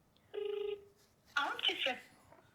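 A telephone call being dialed, a short burst of beeping dial tones followed by a pause and then a voice speaking briefly.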